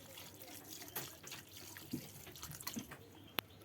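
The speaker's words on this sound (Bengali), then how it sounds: "এবার পরিমাণ মতো পানি দিয়ে দিচ্ছে" Water trickles and splashes into a pot of beef curry cooked with split chickpeas, a quiet, uneven pour with small drips and one sharp click near the end.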